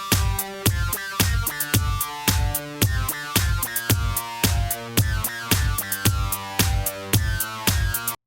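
Remake of a song built in Caustic, with a sidechain-compressed kick pumping through a steady four-on-the-floor loop of bass and synth stabs, each beat ducking the rest of the mix.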